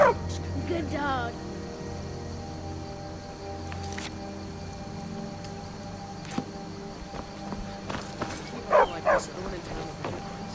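A dog in the video game Skyrim gives a few short yips and whimpers near the end, over a steady game ambience with a low hum and occasional clicks.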